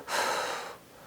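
A single sharp, breathy gasp, imitated by a person's voice, rising quickly and then trailing off into quiet.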